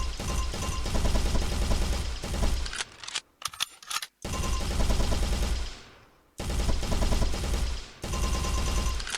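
Rapid bursts of automatic gunfire in a first-person shooter video game, loud dense volleys with two brief pauses between bursts, no voices over the shots.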